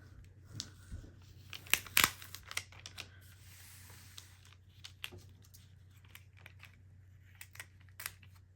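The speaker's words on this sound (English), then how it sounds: "Let's tear it" Paper is torn and crinkled by hand for junk journal ephemera, giving a series of close, sharp rips and rustles with short pauses between them against a quiet background.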